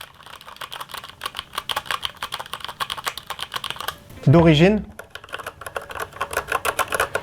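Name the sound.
typing on Makalu 67 keyboard with lubricated MX Red switches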